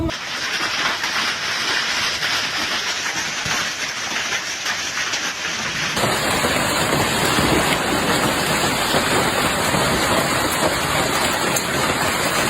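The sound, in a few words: torrential rain pouring down during a storm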